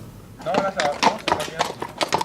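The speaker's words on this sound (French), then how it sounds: "le cheval doit arriver au galop jusque devant les gardes et s'arrêter net" A horse gallops toward guards and pulls up sharply on a period film set, with hoofbeats clattering in quick rhythm at close range before halting, under overlapping speech.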